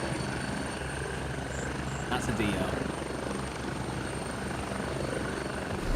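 Helicopter coming in to land in the video game Gray Zone Warfare, a steady, loud rotor drone filling the whole stretch with someone talking over it.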